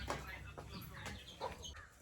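Chickens cluck in short bursts near a farmhouse doorway, close and moderately loud, mixed with other broadband household noise across two seconds.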